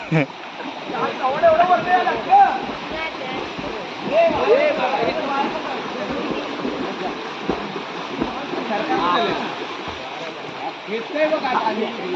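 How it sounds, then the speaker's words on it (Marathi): Strong, forceful water rushes continuously in a village stream, a broad steady roar with splashing, while several people shout and talk over it. "एवढं पाणी जोरात आहे फोर्सने"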